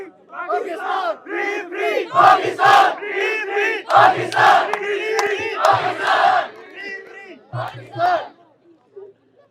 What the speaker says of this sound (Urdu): فری پاکستان کے نعرے لگائیں نا